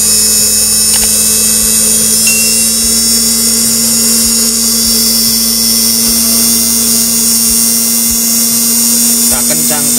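An RS-540 6V Johnson DC motor on a speed controller whines loud and steady, a constant high hum with a strong tonal drone underneath, as it is turned up toward higher speed.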